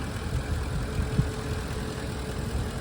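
A Ford E-350 Super Duty box truck's Triton 5.4-liter flex-fuel V8 idling, a low, steady, fairly faint rumble with a broad hiss and no voices.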